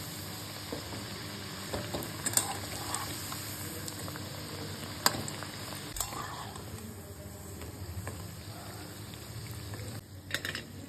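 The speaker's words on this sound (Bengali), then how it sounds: "সুন্দর ভাজা হচ্ছে।" Small snack pieces frying in hot oil give a steady close bubbling sizzle with scattered crackles and pops, heard on its own without talk.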